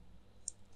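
A single sharp computer mouse click from a right-click while setting up a user account in Windows Server 2022, brief and close over a quiet background hum.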